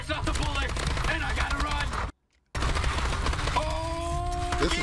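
Dense, continuous automatic gunfire and explosions from the Call of Duty Advanced Warfare video game, loud throughout with a brief silent gap midway and some voices mixed in near the end.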